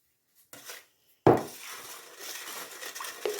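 A spoon clinks against a bowl, followed by soft scraping and stirring sounds as sugar is mixed into a pickling marinade for cucumbers, close and quiet.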